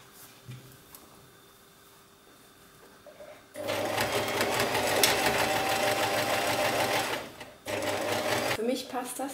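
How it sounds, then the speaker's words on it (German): A sewing machine stitches the side seam of a T-shirt, running in a loud, steady whir for several seconds after a quiet start, with a brief pause before it resumes. "Also, jetzt nähen wir die andere Seite."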